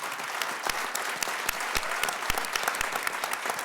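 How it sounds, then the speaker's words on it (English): An audience applauds panelists at a community conversation session on building wealth, with steady clapping from a modest crowd and some distinct close claps standing out. "let's give a round of applause for our panelists"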